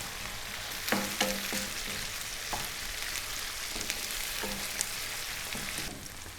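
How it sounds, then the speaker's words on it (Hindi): Minced meat with garlic, ginger and green chilli sizzles and fries steadily in a hot pan, with occasional scraping stirs and clinks of a utensil, close up. "इसको हमने कीमे के साथ अच्छी तरह से भून लेना है।"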